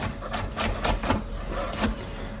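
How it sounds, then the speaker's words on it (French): Knife chopping bacon and onion on a cutting board, a quick series of about six sharp taps in an uneven rhythm, close and fairly loud. "je vais continuer à le hacher jusqu'à ce que ça ait la taille que je souhaite"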